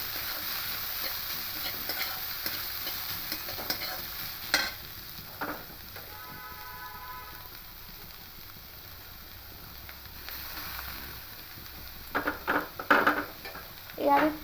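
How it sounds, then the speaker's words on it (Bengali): Watermelon rind chutney stirred in a pan, a gentle ongoing sizzle broken by intermittent scrapes and clinks of a utensil against the pan, louder knocks near the end, with a bit of talk. "একটু নেড়ে দেব এভাবে"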